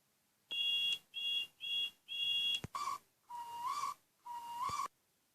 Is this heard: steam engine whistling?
yes